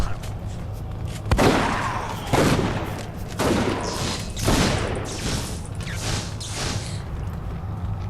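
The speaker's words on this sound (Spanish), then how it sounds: "Disparo." Bursts of gunfire in the video game Dungeon Siege 3 crack out repeatedly in short volleys, loud and sharp, with a low steady hum underneath.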